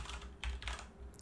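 Quick soft keystrokes patter on a computer keyboard, a brief close run of clicks with no talk.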